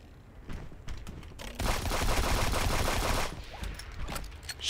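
Rapid automatic gunfire from a level-grinding shooter video game, a dense sustained burst of shots after a few scattered single pops, loud and close with no talk over it.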